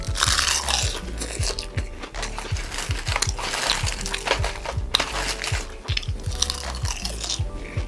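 Close, crunchy chewing of silchi (icefish) hoe muchim, a spicy raw icefish salad, eaten with laver, in a steady rhythm of wet crunches and bites throughout.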